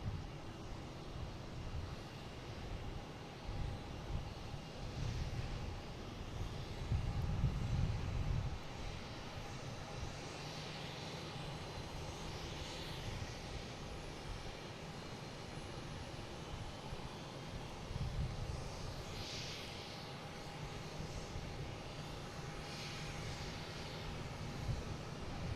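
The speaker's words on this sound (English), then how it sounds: "we got Japan Airlines coming in from Tokyo Narita" A Japan Airlines Boeing 787 arriving from Tokyo Narita lands at Boston Logan, its distant jet roar faint and steady with a brief low surge partway through and no voices.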